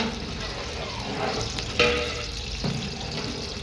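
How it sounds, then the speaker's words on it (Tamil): Cashews sizzle and crackle steadily as they fry in a hot pan, with a few clinks and scrapes of stirring partway through. "முந்திரியை லேசாக அப்படியே பொன்னிறமாக வதக்கி கொடுத்துக்கலாம்."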